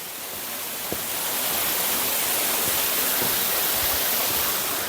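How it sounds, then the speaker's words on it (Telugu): A waterfall near Khecheopalri lake in West Sikkim, Sikkim, produces a continuous rushing roar, close and steady, that swells slightly after the first second and carries on with no one talking. "సో చూస్తున్నారు కదా బ్యూటిఫుల్ వాటర్ ఫాల్ అనేది."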